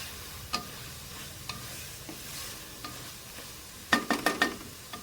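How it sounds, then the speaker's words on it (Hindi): Chicken with garlic-ginger paste stirred and fried in a pan for chicken jalfrezi: a steady sizzle broken by spaced spoon scrapes, ending in a quick burst of several louder stirring strokes, close and without voices. "चिकन और लहसुन अदरक का पेस्ट अच्छी तरह मिक्स हो रहा है"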